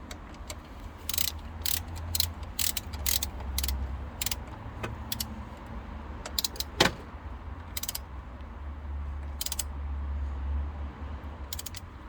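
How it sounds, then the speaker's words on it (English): Ratcheting torque wrench turning Rover 214 cylinder head bolts by angle, 180 degrees each, during a head gasket replacement: a series of short, crisp clicking bursts up close, spread irregularly across the stretch over a low background hum. "So this is torquing by angle rather than by torque, and we're going 180 degrees on all."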